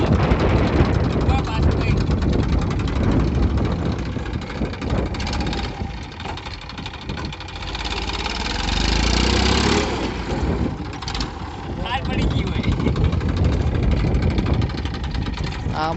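A Massey tractor engine runs steadily and loudly throughout, a continuous mid-pitched rumble with slight surges, while people talk over it.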